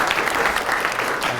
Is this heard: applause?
yes